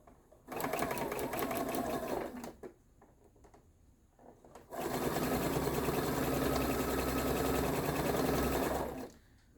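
A sewing machine stitches a quarter-inch seam on grey fabric for a snail trail quilt block. Two sustained bursts of rapid, steady needle chatter come close and loud, separated by a brief pause with soft handling noises.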